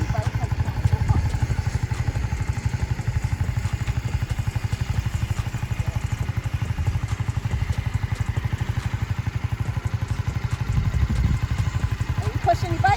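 A motorcycle engine runs low and steady at slow speed during a riding lesson, with a rhythmic pulsing throb throughout while people talk over it.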